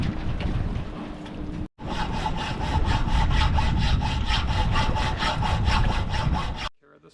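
A handsaw cuts through a bent section of a sailboat's metal whisker pole, a fast, even back-and-forth rasp of rhythmic strokes, close and loud, stopping briefly partway through before resuming.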